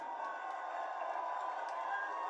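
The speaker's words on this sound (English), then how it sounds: "we got to hear this crowd" A distant, faint roar from an arena crowd at a UFC fight, steady cheering with no individual voices standing out.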